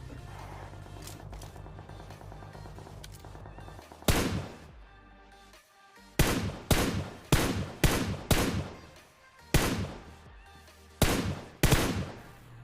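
Gunfire in a battle royale video game: several loud, sharp shots burst out in quick clusters after a quieter stretch of game background, with single taps and short volleys spaced across the stretch.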